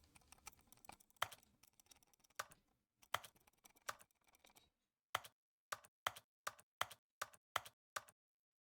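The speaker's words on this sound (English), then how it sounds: "Look, I will put my mouse next to the microphone." A computer mouse set beside a microphone clicks close and crisp. First comes an irregular flurry of small clicks, then a short silence, then about eight evenly spaced sharp clicks.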